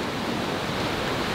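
Strong ocean waves on the beach at Seminyak, Bali, a dense, continuous roar of surf filling the whole moment without voices.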